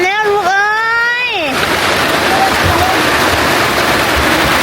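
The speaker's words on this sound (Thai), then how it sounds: "ฝนตก" Rain falls in a dense, steady hiss that fills the scene after a voice speaks briefly at the start.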